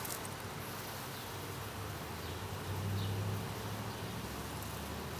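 Honey bees buzz quietly around an open hive during a brood inspection, a faint continuous hum with a slightly stronger drone rising for a moment.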